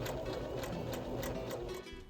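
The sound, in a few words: sewing machine sewing a basting stitch on culottes pocket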